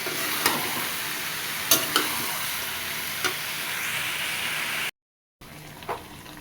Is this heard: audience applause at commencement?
no